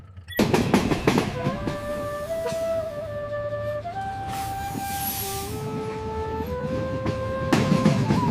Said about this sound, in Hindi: सांगा माने ट्रेन चालू हैला।